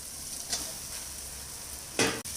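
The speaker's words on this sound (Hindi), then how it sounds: "ये देखें इसमें स्पैगेटी मिक्स कर रही हूँ।" Spaghetti being tossed and mixed in a sizzling pan, a soft steady fry with two brief scraping strokes, the second louder, and no talking.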